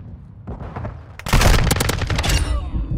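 Rapid bursts of automatic gunfire in Call of Duty: Modern Warfare II, loud and close, starting with sparse shots and then breaking into a dense, sustained rattle of overlapping rounds.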